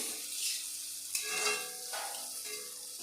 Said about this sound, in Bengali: এই দেখো গাজর আর বিনস ভাজা হচ্ছে